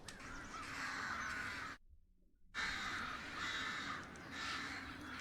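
Crows caw repeatedly in a scene from a Game of Thrones episode, harsh calls at a moderate distance with a brief silent gap partway through.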